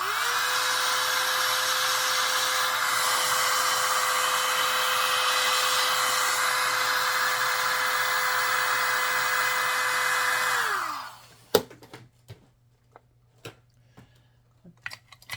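A hot air blower roars steadily at close range as it heats an American Flyer model train link coupler, then winds down and cuts off, followed by a few sharp clicks and taps in near silence.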